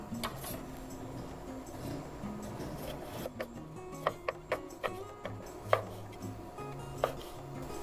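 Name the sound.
knife chopping cherry tomatoes into quarters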